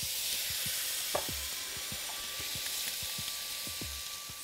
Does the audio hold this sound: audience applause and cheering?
no